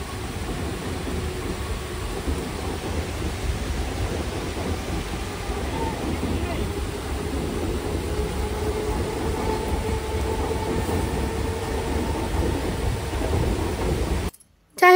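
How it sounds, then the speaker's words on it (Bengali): A train rumbling past a closed level crossing during rain, a broad continuous roar and rattle holding steady for about fourteen seconds before cutting off abruptly, heavy and close. "এখানে দাঁড়িয়ে রয়েছি কারণ গেট পড়েছে, ট্রেন যাবে"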